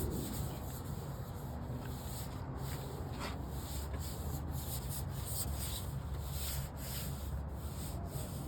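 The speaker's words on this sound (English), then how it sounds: "Now you can hear as I'm wiping the amount of overspray and touch-up paint that was applied to the Jeep" Steady rubbing and wiping of overspray and touch-up paint off a Jeep's painted surface, a continuous close scratchy friction that runs without pause.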